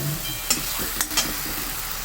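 Mango rice being stirred in a pan, where a soft sizzling bed is broken by a few quick spatula scrapes against the metal, heard up close without speech.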